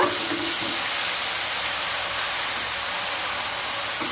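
Cauliflower and paneer with ground masala sizzle steadily in a hot pan for a rezala, a continuous close crackle and hiss with no speech.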